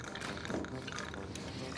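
Apple whiskey poured from a bottle into a glass while making a cocktail, a steady liquid trickle and fill lasting under two seconds, close and moderately quiet with a low room background.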